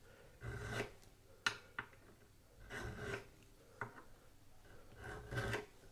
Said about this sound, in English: we're going to put the file end on it. And there's a little burr that's there